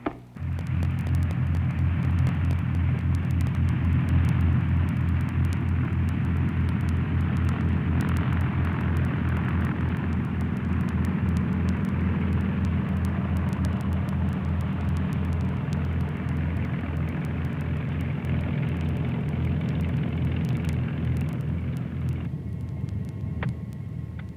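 A Commander light aircraft taxis to the ramp, its piston engine droning in a steady, loud, close hum that holds evenly throughout with no voices.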